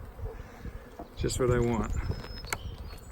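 Honey bees in an opened beehive during a beekeeper's inspection, a close, continuous buzzing drone while someone talks briefly over it.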